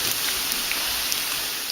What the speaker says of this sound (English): here's the sound of bacon frying in a pan